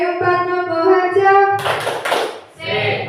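Elementary school audience at SDN 4 Mlopoharjo performs a rhythmic spirit clap, with loud clapping bursts alongside a voice and children's chanting, the hands clapping in a brisk pattern before a short pause and another round.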